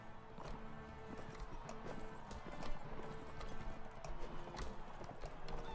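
Horse hooves clip-clop in the medieval game Mount & Blade: Warband, a busy run of hoofbeats with a whinny or two and scattered clanks, carrying on for several seconds with no speech.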